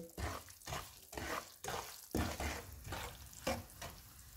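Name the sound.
roasting dry fruits in semolina for suji halwa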